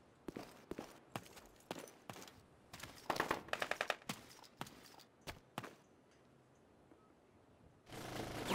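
Sharp gunshots crack in the video game Full Spectrum Warrior, firing in uneven single and clustered bursts, thickening into a rapid volley midway, then fading to quiet before a loud rushing swell at the end.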